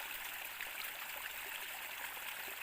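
Running water flows steadily and close by as it is left to run until it comes out clean, a continuous broadband rush and gurgle with no talking.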